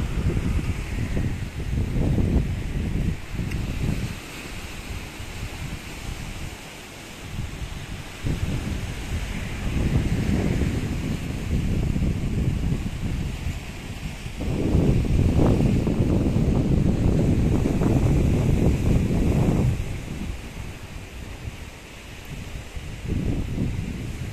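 Wind blowing outdoors in Rethymno, Crete, on a cloudy day, rising and falling in broad gusts with a steady low rumble against the microphone, strongest midway through.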